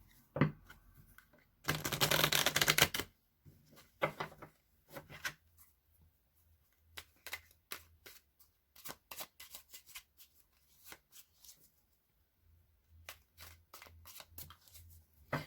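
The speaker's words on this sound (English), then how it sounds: "So I'm going to shuffle the cards." Close, quiet tarot card shuffling: one long riffle, then a scattered series of shorter flicks and taps as the deck is handled.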